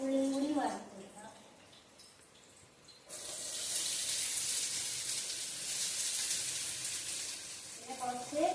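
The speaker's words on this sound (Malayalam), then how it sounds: "അത് നമുക്ക് കുറച്ച് ഉള്ളിയും കൂടി വറുത്തെടുക്കാം." Onions sizzling in hot oil with mustard seeds and curry leaves, a loud steady frying hiss that swells suddenly and holds, with a voice speaking briefly before and after it.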